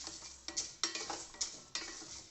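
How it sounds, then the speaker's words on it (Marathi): Sorghum grains roast in a pan as a spoon stirs and scrapes them, giving a few separate clinks and scraping strokes over a faint sizzle, close and fairly quiet. "ज्वारी पण अशी छान भाजून घ्यायची बघा लाह्या तयार होतात"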